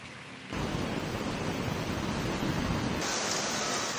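Heavy typhoon rain in Pangasinan, Philippines starts abruptly and pours down steadily, a dense, loud hiss filling the scene with no voices.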